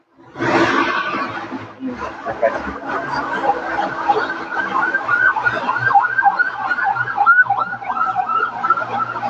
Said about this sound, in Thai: ทุกครั้งที่มีการไลฟ์สดนะก็จะมีรถหวอเข้ามาตลอดนะครับ